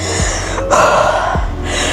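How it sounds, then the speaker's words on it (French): A person takes quick, shallow, stressed breaths high in the upper chest, two or three sharp airy gasps close to the mic with no talking. "respirer avec les clavicules, c'est plus une respiration qui va être stressante"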